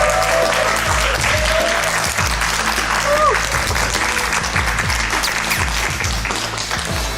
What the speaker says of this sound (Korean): 여러분, 조승현 작가님을 큰 박수로 맞이해 주시길 바랍니다